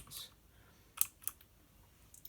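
Button presses on a Havit KB389L RGB keyboard: a few sharp, isolated clicks spaced apart, close and fairly quiet, with no talking.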